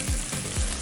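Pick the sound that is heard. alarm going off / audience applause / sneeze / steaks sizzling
steaks sizzling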